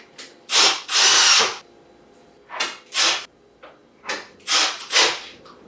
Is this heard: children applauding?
no